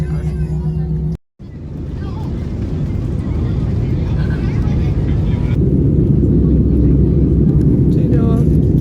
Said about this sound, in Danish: Jeg sidder i flyet nu, og vi skal hjem.